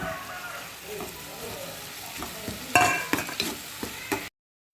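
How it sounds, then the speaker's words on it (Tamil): Tomatoes sautéing with crab and onions in a pan for crab pepper fry sizzle steadily while a spoon stirs, with several sharper scraping and clattering strokes near the end before the sound cuts off. "இப்போ தக்காளியை போட்டு வதக்கிடணும்"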